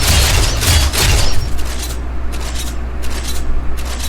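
Pistol gunfire from a steel clockwork master pistol in the video game Fable 2, a dense burst of loud blasts in the first second and a half, followed by lighter scraping and rustling shots fading through the rest.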